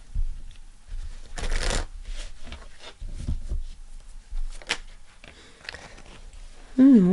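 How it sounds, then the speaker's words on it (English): Tarot cards are shuffled by hand in several quick papery riffling bursts separated by pauses and soft handling noises. A voice speaks briefly at the very end. "One more shuffle."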